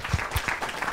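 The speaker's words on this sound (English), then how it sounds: "let's not try to applaud at the end of each statement." A brief burst of audience applause at a meet-the-candidates forum, scattered hand clapping from a room of people lasting about a second.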